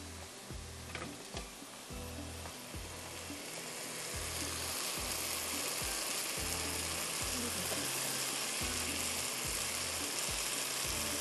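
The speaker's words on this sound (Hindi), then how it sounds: "गोश्त को पहले मैं थोड़ा सा भुनाई करूँगी ताकि मसाले के साथ थोड़ा सा गोश्त भून जाए" Goat meat being fried with masala in a pot gives a steady, close sizzle. It grows louder and denser after a few seconds, over a low, regular rattling hum, with no talk.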